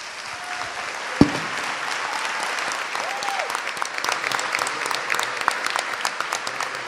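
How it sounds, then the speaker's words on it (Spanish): A crowd at a formal administrative review event bursts into sustained applause, loud and dense, building slightly in intensity with a sharp knock near the start and scattered voices beneath. "Así que pido un aplauso para ellos."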